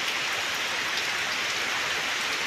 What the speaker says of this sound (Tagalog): tuloy-tuloy po ang pagbugso ng malakas na hangin at ulan